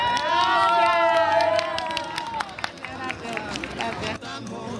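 An audience at a Peruvian food fair in Tacna bursts into loud, dense clapping and cheering that gradually thins out, with crowd chatter and voices mixed in.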